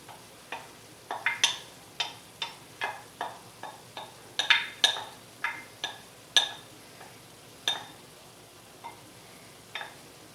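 Chopped sweet onion sizzles and crackles in a hot pan for Greek lasagna, with a steady run of sharp pops and spits over a soft frying hiss, no talking.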